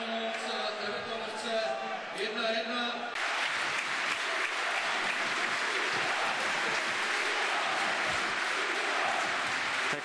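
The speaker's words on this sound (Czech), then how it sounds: "ten potlesk ve stoje je vypovídající" A football crowd at a SK Sigma Olomouc stadium match against Everton rises in a standing ovation, dense sustained applause that swells after a few seconds and continues loudly, with voices mixed in.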